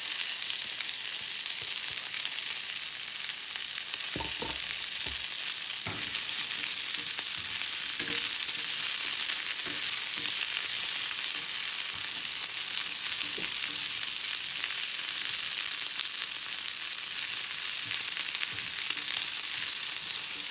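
Broccoli, black olives and cauliflower hit a pan of golden-browning pancetta and butter, sizzling with a steady loud hiss, punctuated by occasional stirring clicks and scrapes.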